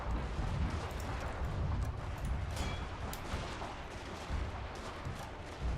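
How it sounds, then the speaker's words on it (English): Artillery barrage in Total War: Fall of the Samurai, a dense, continuous rumble of cannon fire and overlapping booms, loud and sustained with no pauses. "my artillery is actually doing a lot of damage to my own"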